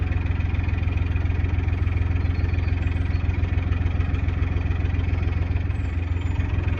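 A small narrowboat engine ticks over on a canal with a steady, rhythmic low chugging and knocking throb, close and continuous, with no voices.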